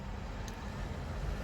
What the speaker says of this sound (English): that big noisy car going past, truck.